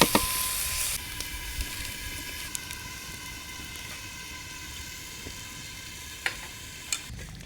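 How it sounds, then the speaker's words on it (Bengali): Rice being stirred and fried in oil in a pan, with a soft steady sizzle, a few light scraping knocks of the spoon, and a brief louder burst at the start. "এবার একটু নেড়ে চেড়ে দিব।"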